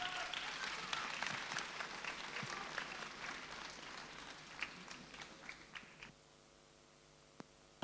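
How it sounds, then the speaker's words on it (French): Audience applause at a town New Year's greetings ceremony in Fresnes-sur-Escaut, a dense steady clapping crowd for about six seconds that then thins out to a few scattered claps. "on peut l'applaudir très fort."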